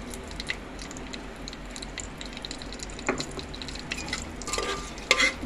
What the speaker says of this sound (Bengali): এখন আমি ফোড়ন দিয়ে দিচ্ছি শুকনো লঙ্কা, তেজপাতা আর গোটা গরম মশলা